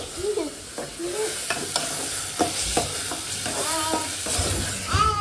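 Onions sizzle steadily in a hot pan, a close, continuous fry with scattered stirring scrapes and spatters throughout, no voices.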